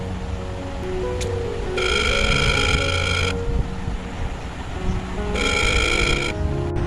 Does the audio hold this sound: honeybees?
no